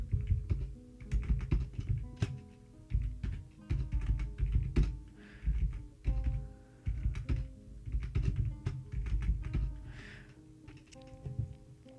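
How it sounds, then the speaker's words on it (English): Computer keyboard typing in bursts of quick, close key taps with short pauses, fairly quiet and alone, with no talking, during a Dwarf Fortress game session. "You don't have to hear my keyboard."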